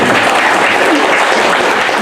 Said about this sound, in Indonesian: SMA 3 itu tepuk tangan dulu.